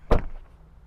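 Tesla Model Y 2026 door shutting with a single soft, muffled thud, brief and close, followed by a faint quiet tail.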